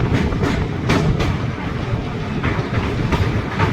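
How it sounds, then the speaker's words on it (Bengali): The Teesta Torsa Express crosses a river on a foggy winter journey, heard as a loud, steady rumble with rhythmic clickety-clack wheel beats on the rails throughout. "ট্রেন এখন একটা নদী পার করছে"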